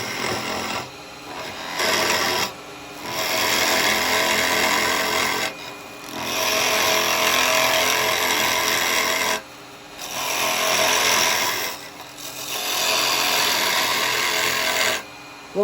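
A carbide chisel cuts a natural-edge firewood bowl spinning on a wood lathe, a loud, dense rasping scrape that runs in long sustained passes broken by short pauses.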